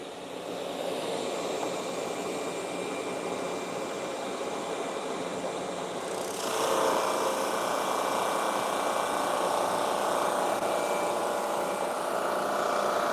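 A drum sander grinds across a curly cherry cutting board in a continuous loud hum, with the pitch and loudness rising about halfway through as the board feeds under the drum.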